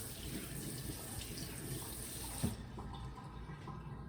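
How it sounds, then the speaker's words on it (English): Warm water runs from a tap while a cooking skewer is wetted, a steady close hiss and splash that cuts off partway through, leaving a faint room tone. "Actually, I'm gonna wet the skewer with some warm water."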